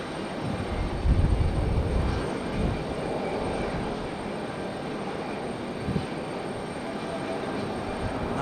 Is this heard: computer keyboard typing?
no